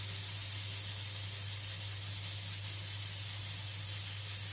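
Steady, continuous hiss of steam escaping under pressure from a pressure cooker cooking chicken and rice, loud and unbroken throughout, with a low hum beneath.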